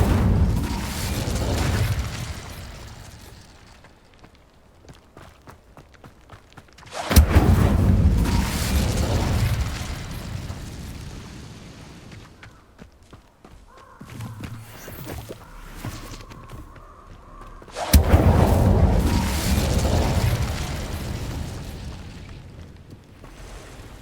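The Incendio fire spell in the video game Hogwarts Legacy erupts three times as heavy whooshing bursts that fade slowly, separated by quieter stretches with faint mechanical clatter and footsteps.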